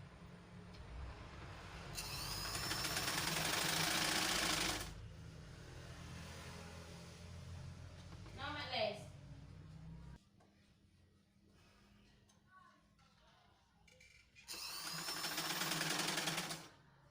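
An electric sewing machine stitches a fabric wrap skirt in two loud, steady bursts of buzzing several seconds long, separated by quieter handling noises and a pause.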